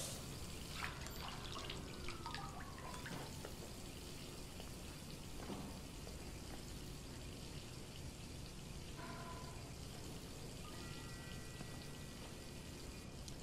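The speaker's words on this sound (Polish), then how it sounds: "Puszczę ci wodę." Water runs steadily into a bathtub in Detroit: Become Human, a continuous splashing rush held at an even level throughout with faint clicks and tones from the game.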